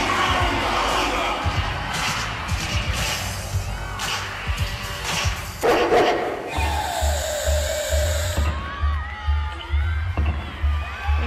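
Arena crowd cheering and whooping during a women's college gymnastics floor routine, Georgia versus Stanford, a steady loud roar with surges and shouts over thumping floor music throughout.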